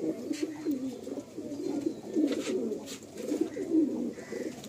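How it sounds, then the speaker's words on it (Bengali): Several pigeons coo steadily and continuously up close, their overlapping throaty, rolling calls filling the whole stretch without pause. "খুবই কোয়ালিটিফুল পায়রাগুলো রয়েছে।"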